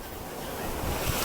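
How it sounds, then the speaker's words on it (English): Ocean surf washing onto a Hawaii beach, a steady broadband roar of breaking waves and rushing water with wind buffeting the microphone, close and continuous throughout. "Having that serene feel and sound of the waves and the water"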